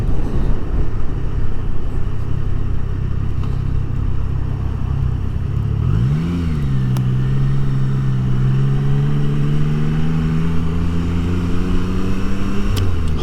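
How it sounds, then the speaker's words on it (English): A Humvee drives past on the road, its engine rising in a smooth pitch sweep midway and then holding a steady drone, heard over the constant wind and engine rumble of a Triumph Tiger Sport 660 motorcycle ride. "Humvee."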